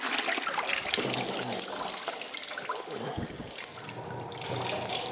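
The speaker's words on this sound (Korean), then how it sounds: "물을 적신 다음에 꽉 짜내고 물기를 이렇게 꽉 짜내고" A finishing towel for car glass care being soaked and wrung out, with water trickling and dripping close by under a person talking.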